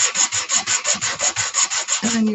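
A wooden block is rubbed back and forth on sandpaper in about a dozen steady, rhythmic rasping strokes, loud and close, ending in a brief rougher scrape.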